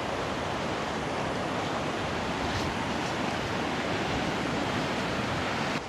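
Ocean surf at Montañita beach, Ecuador, on a humid day with the tide rising, roaring as a dense, constant wash of breaking waves, loud and close with no speech.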